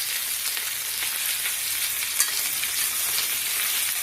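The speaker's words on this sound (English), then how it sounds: "Flip them and sear the other side. Just want to get them brown and lock in the flavor." Pork chops, fat trimmed from the edges, sear in a pan with a dense, even hiss of sizzling fat, loud and close, steady throughout with one brief pop.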